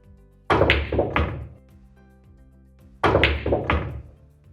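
Pool cue hitting balls in a trick shot while running a rack: two separate bursts of sharp, close clacks and knocks, each a quick cluster of hits, with a quiet gap between them.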